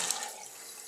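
Tap water runs into a sink while a makeup brush is rinsed, a soft, steady hiss of flowing water, close and fairly quiet.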